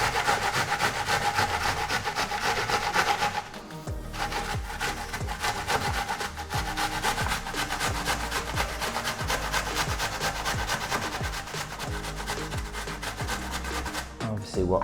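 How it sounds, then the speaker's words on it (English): A vegetable stalk is rubbed hard against a kitchen grater in fast, even rasping strokes that continue for several seconds, close and steady, with no speech. "hold the top, take the bottom, and just grate away"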